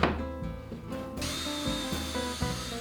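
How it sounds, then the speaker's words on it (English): A power drill with a countersink bit whirs steadily, its motor pitch shifting as the bit bites in, with brief pauses and restarts. Close and fairly loud. "drill extra deep with this countersink bit"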